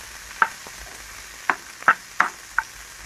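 Black-eyed beans and olives briefly frying in a pan on the stove for baião de dois, a few sharp scraping stirs spaced out over a quiet background with no talking.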